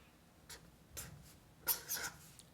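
A pen writing Korean Hangul letters on paper, soft scratchy strokes coming in short separate bursts, faint and close in a quiet room.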